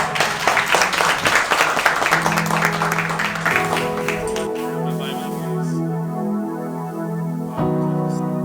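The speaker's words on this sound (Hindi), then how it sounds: "हम खुदा पाक के लिए अच्छी ताली बजा सकते हैं।" A church congregation at a Thursday service breaks into loud, dense applause that fades after a few seconds, giving way to sustained organ-like tones.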